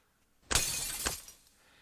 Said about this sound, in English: The rear window exploded.